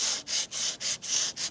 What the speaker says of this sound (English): afterwards I get a sanding block like this